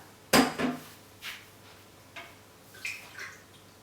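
Oil and water poured into a pan holding butter and cocoa powder while making a chocolate buttermilk cake: a sharp clatter followed by several softer splashing and clinking bursts, close and otherwise quiet.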